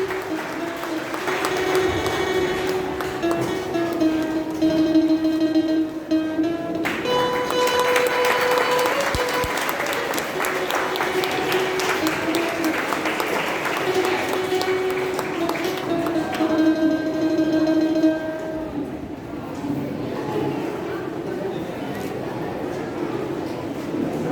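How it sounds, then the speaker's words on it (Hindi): An audience at a school career and personality development program at Angel High School applauds for invited guests, sustained clapping under a bright held musical tone, with a voice speaking over parts of it. "Please, a big round of applause for ma'am and sir, please."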